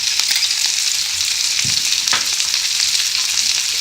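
Vegetables and capsicum sizzle steadily in an oil-filled pan while sooji upma is being made, a constant bright hiss with a couple of soft stirring knocks, close and alone with no voices.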